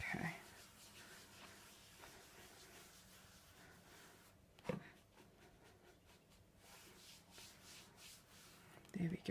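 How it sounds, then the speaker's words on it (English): A hand rubs dye into a piece of leather, making a steady, close dry rubbing and scuffing that runs continuously, with a brief louder knock midway and a voice now and then. "A good rub, lots of rubbing."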